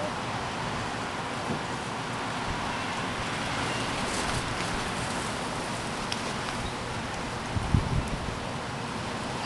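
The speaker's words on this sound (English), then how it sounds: "it's windy and raining." Steady outdoor wind and rain, a continuous broadband hiss across the whole stretch, with a few brief louder knocks near the end and no clear talk over it.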